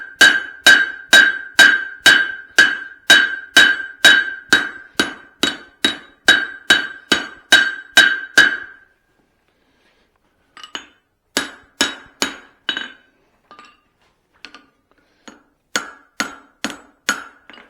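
Steel hammer blows ringing sharply on an anvil while forging a Swedish cross peen, a fast even run of bright metallic strikes, then a pause and several shorter irregular bursts, loud and close.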